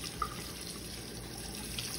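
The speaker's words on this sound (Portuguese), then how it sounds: "Agora eu venho aqui e jogo uma água fria aqui nela." Cold tap water is poured over freshly blanched green vegetables in a home kitchen, a steady, faint splashing stream that runs evenly throughout, with a couple of small drip-like taps.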